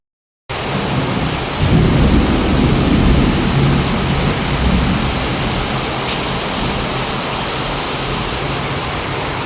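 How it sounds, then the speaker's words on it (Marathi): Steady, heavy rain pours down without a break, loud and close, with a dense wash of noise and a low rumble swelling briefly near the start. "कसा आहे पाऊस कसा आला पाऊस"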